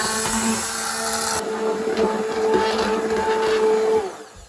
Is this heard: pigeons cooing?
no